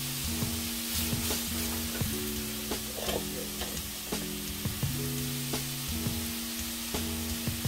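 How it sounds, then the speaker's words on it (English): Minced garlic sizzling in a frying pan for tacos, a steady close frying hiss with occasional stirring clicks, over a background of music and no talking. "I'm going to add some minced garlic."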